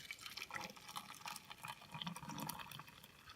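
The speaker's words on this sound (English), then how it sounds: "And then I can take my water and fill it up." Water is poured into a herb infuser, a soft continuous trickling and filling sound, faint and close, with no talking.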